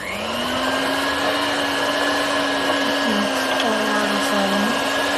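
A mixer whirs loudly and steadily while beating cheesecake batter of cream cheese, sugar, flour and zest, its motor holding a constant drone with slight pitch wobbles.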